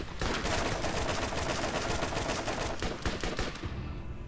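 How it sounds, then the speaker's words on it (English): Rapid enemy gunfire crackles in a Borderlands firefight, dense bursts of overlapping shots rattling continuously for about four seconds before cutting off. "And they're still shooting us!"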